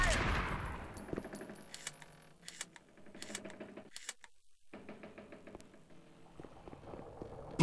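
Rapid gunfire rattles in the video game Mobile Forces, with fast repeated clicking shots and metallic knocks, moderately close and fairly quiet, broken by a short silent gap before the bursts resume.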